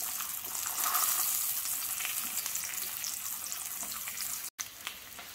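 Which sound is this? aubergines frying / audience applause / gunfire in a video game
aubergines frying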